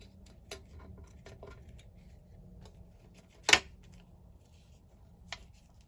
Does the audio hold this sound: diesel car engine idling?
no